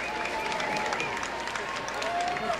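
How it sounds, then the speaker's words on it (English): An audience in an evening gathering applauds steadily, a dense wash of clapping at moderate level that continues evenly throughout without voices over it. "j'aimerais qu'on lui donne une bonne main d'applaudissement, s'il vous plaît"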